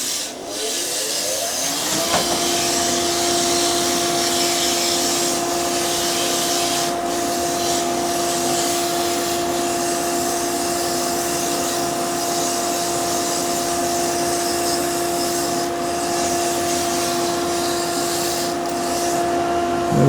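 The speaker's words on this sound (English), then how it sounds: "I'm going to start with a relatively coarse abrasive, just to iron out a few my lumps" Coarse abrasive sanding a handmade wooden crochet hook on a lathe, a loud continuous whirring hiss with a steady motor hum that runs alone without pause.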